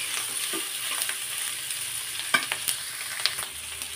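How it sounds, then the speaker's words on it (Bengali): Green chillies and onions frying in a pan for a fish tail mash, a steady soft sizzle with a few sharp stirring clicks and scrapes near the end. "কাঁচামরিচ আর পেঁয়াজটা ভাজি করা হয়ে গেছে।"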